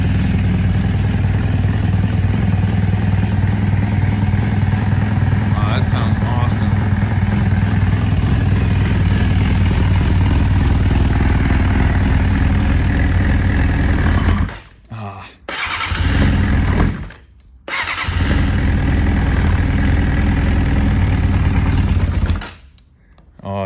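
A motorcycle freshly back from carburetor work, running on choke with its idle screw turned up a couple of turns, holds a loud, steady close-up idle and drops to silence in several abrupt breaks near the end, with someone talking over it.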